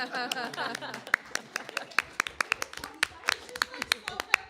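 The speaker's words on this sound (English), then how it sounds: "I want to give everybody a round of applause" A crowd at a school board meeting claps in a brisk, uneven patter that carries on steadily after some brief chatter at the start.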